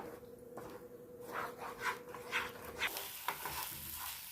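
Ground moringa leaf thokku being stirred in a pan: soft rhythmic scraping and squelching strokes over a low frying hiss, close up with no talking.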